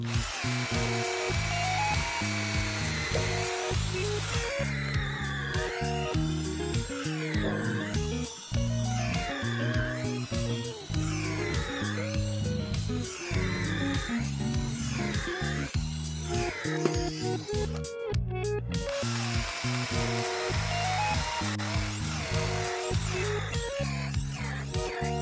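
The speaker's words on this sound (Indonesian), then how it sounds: "Berikutnya kita coba mata bor auger ya." A Ryu RCD12V cordless drill driving an auger bit, its motor whining loudly in repeated surges and pulses, briefly cutting out near the end before spinning up again.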